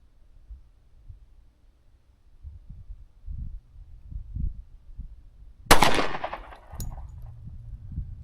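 A single sharp, loud shot from a 10mm Glock pistol firing bear load ammunition, rising suddenly out of quiet low background noise and echoing briefly before fading.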